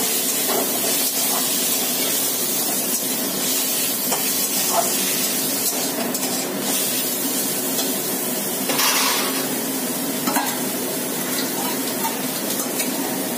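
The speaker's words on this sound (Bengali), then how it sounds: "চিকেনটাকে আমি এবার একটু ভেজে নেবো।" Chicken frying in a pan for a chowmein dish gives a steady, loud hiss and sizzle throughout, with occasional spatters and stirring clinks, and no talk.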